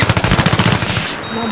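Rapid automatic gunfire from the Battlefield 3 video game, a loud burst of evenly spaced shots lasting about a second before cutting off to a quieter game background.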